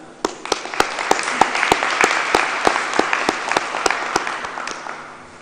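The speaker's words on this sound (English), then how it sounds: "A round of applause for Miss Amanda." Audience applause at a Grade 12 IB Diploma graduation ceremony, a full crowd clapping steadily while one close, loud clapper beats out sharp, regular claps on top, fading slightly at the end.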